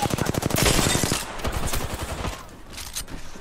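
Rapid automatic gunfire rattles close and loud in Apex Legends, a fast steady string of shots that slows into scattered bursts and then trails off into quieter distant firing.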